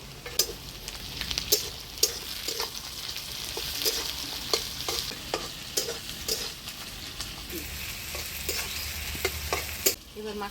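Onions fry in a hot pan while a spatula stirs steadily, with tomato tipped in, making a constant close sizzle broken by repeated sharp scrapes and knocks against the metal, with nobody talking.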